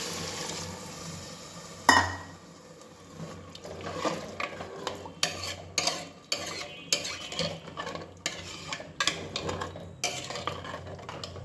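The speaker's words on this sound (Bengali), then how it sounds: "একটু ডাল আর ডালিয়াটা দিয়েও একটু নাড়াচাড়া করলে বেশ ভালোই হবে" Dal and dalia stirred in a cooking pot, a spoon scraping and knocking against the metal over a soft sizzle, with a sharp clank early on and irregular stirring strokes after.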